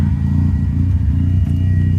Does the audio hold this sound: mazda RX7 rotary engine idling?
yes